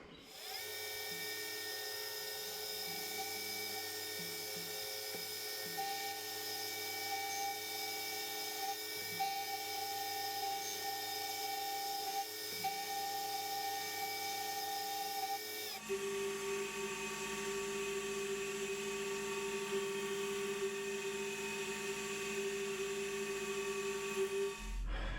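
A milling machine cuts an 8.7 mm slot 12 mm deep into a homemade 30 mm spade drill, a steady high whine of the spindle and cutter running continuously, shifting pitch midway as the cut proceeds.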